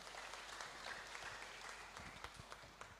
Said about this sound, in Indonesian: mari kita sambut dengan tepuk tangan yang meriah